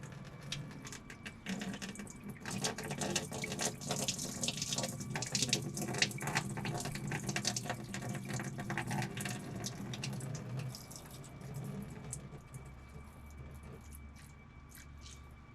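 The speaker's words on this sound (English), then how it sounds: "I'm going to drain all this coolant into our drain pan." Coolant from a 2004 Mustang 4.6L radiator draining into a drain pan, a steady splashing, trickling pour that runs continuously and gradually thins toward the end, close and faint.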